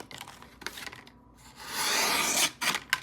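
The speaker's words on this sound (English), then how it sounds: "Let's see if I can just slice through some stuff here." A sharp Arcane Design and Brian Brown Knives Vult blade cuts through material, giving close, bursty rubbing and slicing strokes, with one longer steady hiss of a drawn cut and a few short scrapes after.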